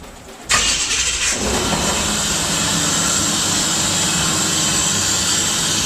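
A KITT replica car's engine cranks and catches, jumping into a loud, steady idle with a strong whoosh of intake air. The sound is close and continuous after a brief starter whir.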